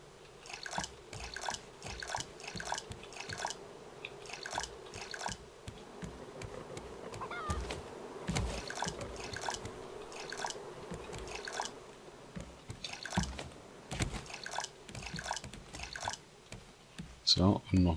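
Water pours from bottles onto crops in the Raft survival game, giving repeated short splashing and dripping bursts with someone speaking over them throughout.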